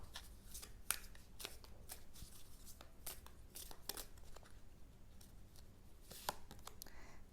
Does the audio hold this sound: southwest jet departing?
no